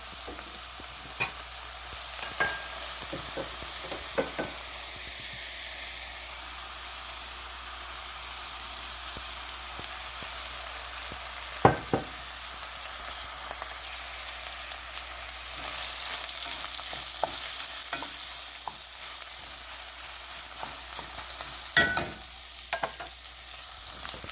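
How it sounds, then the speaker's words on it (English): Shrimp shells fry in a shallow layer of oil with a steady crackling sizzle, broken by sharp clicks and scrapes as a utensil stirs them around the pan, all close and unvoiced. "the shells are turning a nice orange color. And I don't have too much oil in the bottom."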